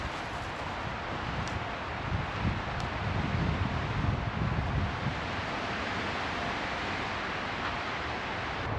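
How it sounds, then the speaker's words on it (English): Strong wind buffets a microphone outdoors at a campsite, a continuous low roaring rush that swells briefly in the middle and then settles. "the wind is getting so intense that my microphone will just pick up the wind the whole time"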